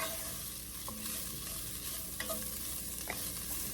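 Chunks of beef sear and brown in a pot for barley soup, giving a steady, close sizzle with occasional stirring scrapes.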